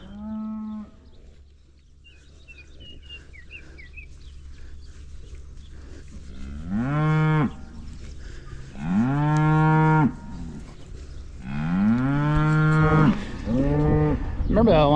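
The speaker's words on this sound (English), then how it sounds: "But you'll be a good cow, won't you?" A pregnant cow that has not yet calved, on a farm, gives several loud, drawn-out moos close by, spaced a few seconds apart after a quiet start, the later calls longer and more strained.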